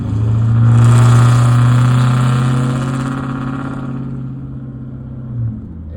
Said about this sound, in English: this exhaust is once I get around like 1600 to 2000 RPMs, this exhaust claps really bad.